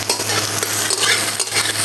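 Chopped garlic, ginger and slit green chilies stirred in hot oil for chicken chowmein: a steady close sizzle with continuous scraping strokes of a spatula against the pan, fairly loud and without talk.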